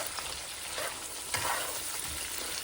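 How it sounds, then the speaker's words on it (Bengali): Peeled shrimp frying in a pan give off a soft, continuous sizzle, fairly quiet and close, with a slight surge partway through and no talking. "এখন আমি চিংড়ি মাছগুলো ছাড়িয়ে ভাজছি"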